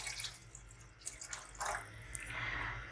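Water poured into sizzling masala in a pot while cooking mutton moti pulao, a close, splashy, bubbling pour with irregular drips and gurgles, heard alone.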